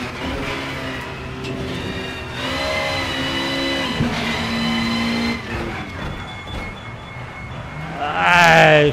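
A Peugeot 406 BTTC touring race car in a racing video game revs hard, its engine note climbing and dropping through gear changes before a brief sharp tyre screech near the end.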